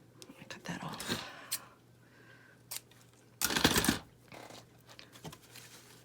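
Scissors snip a thin piece of paper for a vintage spring junk journal, a few short crisp cuts and rustles close by, with soft whispered talk between them.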